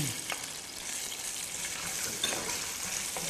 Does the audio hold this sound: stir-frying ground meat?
yes